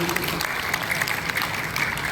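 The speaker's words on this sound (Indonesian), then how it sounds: "Tepuk tangan sekali lagi." Steady applause from an audience at a Rotary International district conference in Jogjakarta, a dense even patter of many hands clapping that holds at a constant level throughout, with a voice audible in the background.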